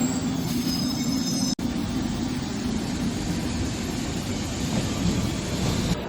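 A metro train rumbles along the tracks in Rome with a steady, loud roar and a faint wheel squeal, broken by one brief sharp click.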